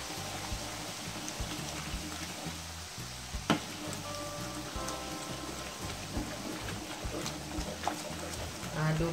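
An egg mixture sizzling in a hot pan as it is stirred, a steady dense crackle like rain with small scraping clicks, continuing throughout under a voice.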